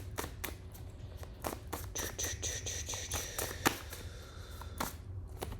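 Tarot-style advice cards being shuffled by hand in a quiet room, a soft series of light riffling and patting bursts, close and faint, with a few sharper clicks scattered through.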